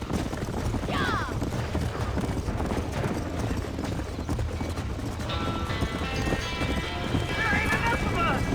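Panicked horses in a burning barn in the video game Red Dead Redemption, with rapid hoof clatter and a couple of whinnies amid crackling noise, under shouting voices throughout.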